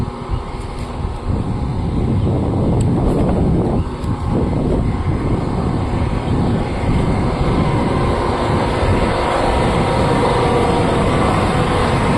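Winter wind blows outdoors near a river ghat, a loud, steady rushing roar that buffets the microphone with low gusty rumble throughout.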